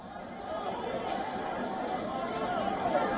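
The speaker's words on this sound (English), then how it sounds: "a large crowd gathered on a covered street and can be heard chanting slogans" Large crowd of protesters on a covered street of Tehran's Grand Bazaar, a dense continuous roar of many voices chattering and shouting together, steady and fairly loud throughout.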